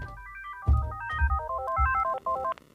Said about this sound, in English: Yo, Peace, your phone, man